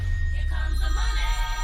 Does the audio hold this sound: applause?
no